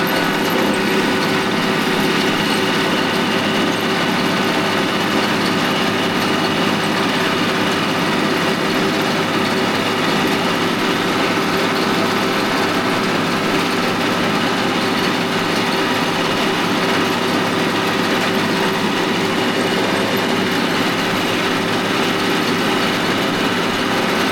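A Japanese mini tractor, freshly overhauled, runs continuously in third gear while tilling, its small engine droning loud and steady at close range for the whole stretch with no talk.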